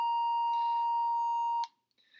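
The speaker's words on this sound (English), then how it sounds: "I have a little app right here that's going to make a little wonderful buzzing noise for us." A steady electronic beep tone from a phone app holds for about a second and a half, then stops abruptly; a faint higher tone follows after a short pause.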